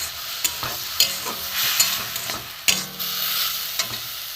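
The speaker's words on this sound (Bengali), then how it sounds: "দিয়ে আমি নাড়বো এটাকে।" Carrot kheer malai with boiled liquid milk is stirred in a pan, with close sharp scrapes of the spoon at irregular intervals over a soft bubbling sizzle.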